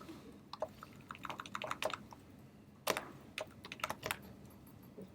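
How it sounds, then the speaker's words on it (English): Typing on a department-provided computer keyboard in a classroom, irregular clusters of soft key clicks with a couple of louder taps, fairly quiet and close, no talk over it. "Got to figure out where the keys are on this keyboard."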